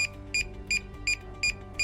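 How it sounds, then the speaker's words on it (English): A drone remote controller beeps during linking in a steady series of six short, high-pitched tones, evenly spaced about a third of a second apart, close and clear. "The linking process will start when the remote controller beeps."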